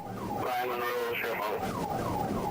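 A wailing ambulance siren sweeps up and down repeatedly, mixed with traffic noise and a brief murmur of voices.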